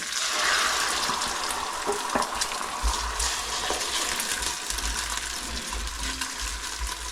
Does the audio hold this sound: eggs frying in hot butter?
yes